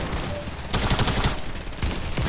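Video game gunfire crackles in rapid automatic bursts: one sustained volley in the middle and another near the end, loud and close, over a constant noisy background.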